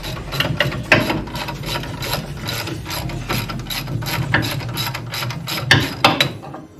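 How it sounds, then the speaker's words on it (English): A ratchet clicks in quick, steady bursts close up while removing the brake caliper on an HQ one-tonner, the rapid pawl clicking running almost continuously. "we're just going to take the caliper off this side"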